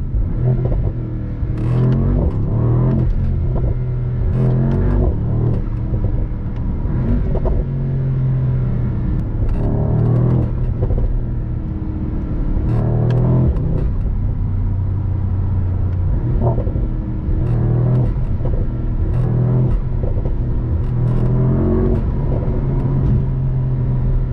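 A 585 hp Mercedes SL63 AMG engine growls and revs through downshifts while driving on the Autobahn, loud and close, with a deep rumbling tone rising and falling throughout.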